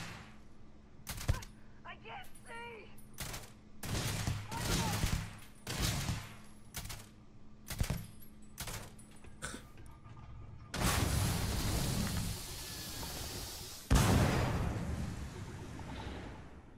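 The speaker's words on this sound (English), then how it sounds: "they're really getting me with those grenades" Combat in the space role-playing game Starfield: repeated gunshots and grenade explosions crack and boom in irregular bursts, ending in two longer, heavier blasts with rumbling tails; loud and close, with no voices.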